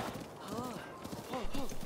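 Horse hooves clip-clop in The Legend of Zelda: Breath of the Wild, quick soft beats under faint game sound while a person talks over them.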